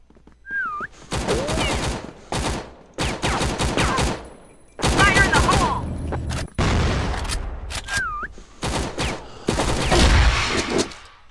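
Bursts of rapid video game gunfire from a modded weapon, several volleys of sharp shots separated by brief gaps, loud and close, with game voice and effect sounds mixed in.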